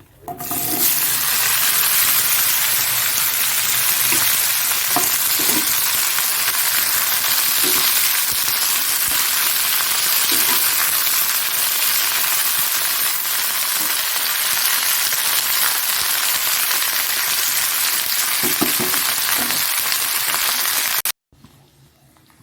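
Cut okra (bhindi) hits hot oil and fries with a loud, continuous sizzle that holds steady for about twenty seconds before cutting off abruptly, with faint stirring taps underneath.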